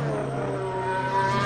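A 2022 Formula 1 car races past a Mazda MX-5 with a loud, high engine whine that holds steady and swells slightly at the end.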